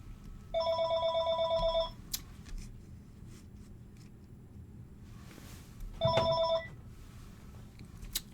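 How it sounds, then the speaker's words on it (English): A telephone bell rings twice, a loud close trill lasting over a second followed by a shorter second burst after a pause, with faint room noise between. "sorry about that, phone call ringing."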